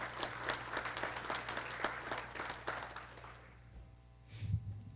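Audience applause at a college State of the College address, a steady dense patter of many hands that fades toward the end, with a low hum underneath and a brief thump at the close.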